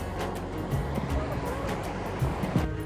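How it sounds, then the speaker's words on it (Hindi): A river swollen by continuous rain rushes loudly in a hilly Uttarakhand village, a steady broadband roar of churning water, close and unbroken, with faint low thumps and a hint of background noise underneath. "लगातार बारिश होने के कारण नदी में बहुत ज़्यादा पानी था और वो बहुत ज़ोर से आवाज़ करती कुछ इस तरह से"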